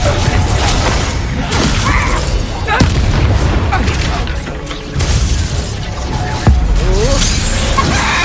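Confringo spell blasts from Hogwarts Legacy go off as several loud booming explosions with sharp cracks at intervals over continuous battle noise, heavy and close.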